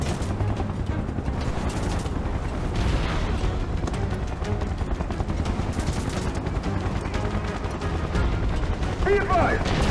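Sustained gunfire from soldiers in Final Fantasy 7 Remake, a dense continuous rattle of rapid shots with booming low rumble throughout, loud and close, mixed with game effects and shouted voices.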